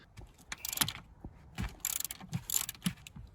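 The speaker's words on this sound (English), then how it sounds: "we're just going to loosen these bolts" Ratchet wrench loosening seat bolts inside a 2013–2021 Subaru, heard as several close bursts of rapid clicking separated by short pauses, with a few duller knocks between them.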